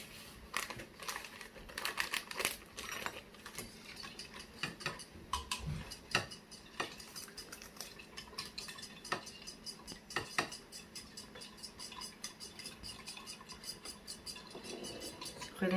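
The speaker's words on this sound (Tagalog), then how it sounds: "imimix po natin yung Mamacita's kare-kare mix into the water" Mamacita's kare-kare mix being stirred into water: faint, irregular clinks and taps of a utensil against a container, soft and close, with quiet scraping between them.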